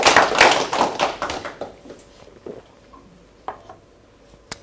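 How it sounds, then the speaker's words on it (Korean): Lecture audience clapping in a burst that starts loud and fades within about two seconds, followed by a few scattered isolated claps in a quiet room. "박수 한번 두 번 시작."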